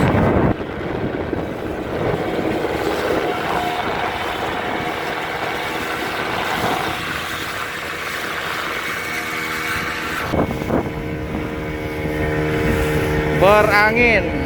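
Steady wind roars across an open fishing boat, mixed with engine rumble, while people talk and call out over the noise.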